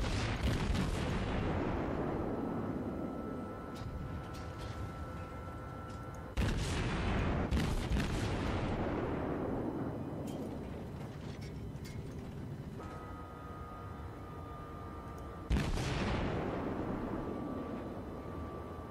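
Naval guns from warships in World of Warships fire in three loud, booming salvos, each a sharp blast followed by a long rumbling decay, with no talk.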